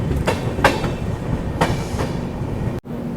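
Delhi to Prayagraj Humsafar Express train rolling and gathering speed, a close steady rumble broken by sharp clickety-clack wheel beats at rail joints, with a brief drop near the end.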